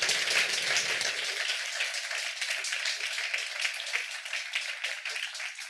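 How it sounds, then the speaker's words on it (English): Audience applause for conference panelists at a health-systems session, a steady dense clapping that fills the room evenly, beginning with a brief voice at the start and continuing alone for several seconds. "An applause for our wonderful panelists"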